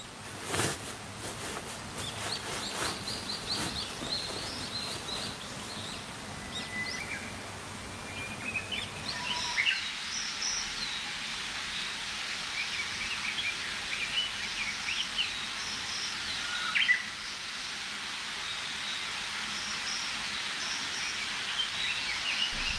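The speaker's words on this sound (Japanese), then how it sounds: "今の季節は鳥のさえずりがたくさん聞こえてきて、とっても癒されます。" Faint birds chirping and tweeting in the distance, heard from inside a car, scattered calls over a quiet outdoor hush with a few soft rustles.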